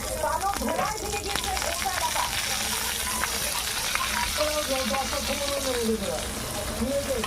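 Chopped ginger frying in hot oil in a pan while cooking a dalia (broken wheat) recipe, giving a steady close sizzle throughout with a voice speaking over it.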